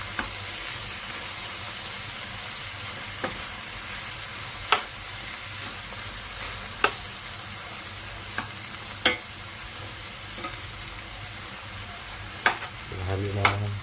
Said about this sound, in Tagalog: Haluin natin ito.